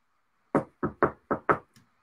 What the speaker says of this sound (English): There's going to be a knock on his door.